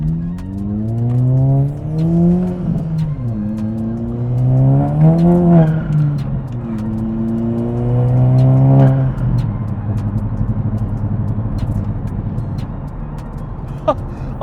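A Volkswagen 1.4 TSI car tuned to about 250 hp accelerates up to 60 mph, engine note rising through several gear pulls with drops between shifts, loud and close from inside the cabin before settling into a steady cruise.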